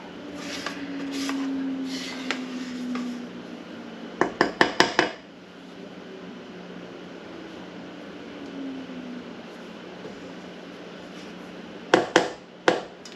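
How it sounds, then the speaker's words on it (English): A utensil scrapes the sides of a bowl of Christmas cookie dough, giving two clusters of sharp, close clinks and scrapes over a steady hum of an appliance in a quiet kitchen. "I'm gonna just scrape the sides."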